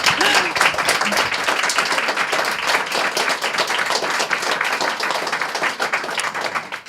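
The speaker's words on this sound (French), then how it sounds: "Applaudissez-les encore." An audience at a panel discussion on violence against women in conflict zones gives a sustained round of clapping, loud and dense from start to finish with no talking over it.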